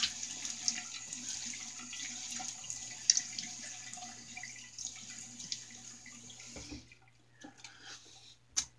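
Tap water runs steadily into a bathroom sink while a face is wetted before a shave, a soft continuous splashing with small drips and hand splashes, close by, before the flow stops near the end.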